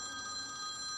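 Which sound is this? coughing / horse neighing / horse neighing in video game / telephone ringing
telephone ringing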